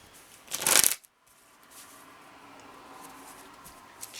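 A shamanic healing oracle card deck gets one quick, crisp shuffle, a short burst of riffling cards that stops abruptly and leaves a quiet, faintly rustling room.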